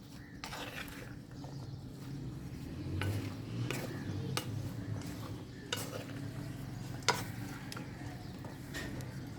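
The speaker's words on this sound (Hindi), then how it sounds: "अब हम इसको भी पहले जो है ना मिक्स कर लेंगे" Chana chaat ingredients being stirred together in a bowl, with steady scraping and clinking of a spoon against the bowl and a few sharper knocks, close and continuous.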